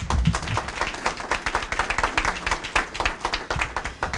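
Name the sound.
audience applause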